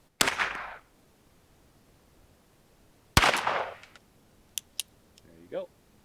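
Two sharp cracks from a lever-action .22 rifle at an outdoor ranch rifle range, spaced a few seconds apart, each trailing off quickly, followed by small clicks and a brief voice.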